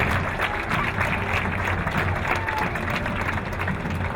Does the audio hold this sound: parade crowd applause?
yes